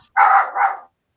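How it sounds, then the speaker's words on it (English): A dog gives a single loud, high-pitched shrieking bark that sounds almost like a screaming child, in two quick surging parts, close by and alone, then silence. "that dog screamed. It didn't bark, it screamed."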